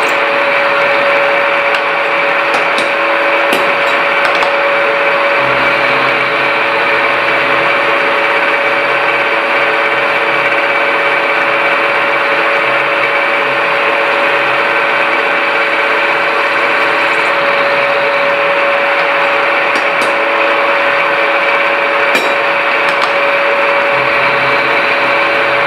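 An internal grinder runs at full speed with a loud, steady high-pitched whine and hum that stays constant throughout, with occasional faint clicks.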